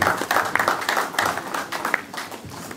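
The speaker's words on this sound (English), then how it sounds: "We clap for the Lord of Lords." A church congregation claps together during a sermon, a brief burst of loud, fairly steady applause filling the room.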